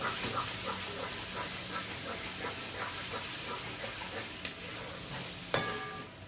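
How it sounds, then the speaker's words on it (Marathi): Masala frying in oil for a jackfruit biryani, a steady soft sizzle and hiss close by, with a few faint clinks and one sharper utensil knock near the end. "आणि तुम्ही बघताय असा मसाला छान भाजलाय, तेल सुटलंय अगदी त्याला."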